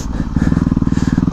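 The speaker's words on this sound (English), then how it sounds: "This is my bug out motorcycle" A dual-sport motorcycle on DOT knobby tires rides through muddy, leaf-covered woods, its engine loud and close with a fast, regular pulsing beat.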